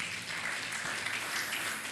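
A church congregation applauds during a sermon, a soft, steady wash of many hands clapping heard from a distance, faint and unbroken throughout.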